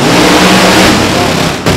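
Nitro drag racing cars at a hot rod reunion launch from the starting line, a loud, dense, continuous engine roar filling the whole moment before cutting off sharply near the end.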